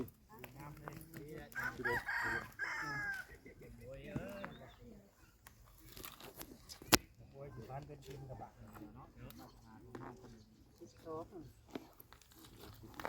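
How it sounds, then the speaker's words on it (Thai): Chickens and a rooster on village land in rural Thailand, with a crow rising in the first few seconds and scattered clucks under steady nearby conversation. "ไก่"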